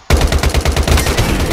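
Rapid bursts of automatic gunfire from a first-person shooter game, a dense, loud string of shots in a steady rhythm running unbroken through the whole moment.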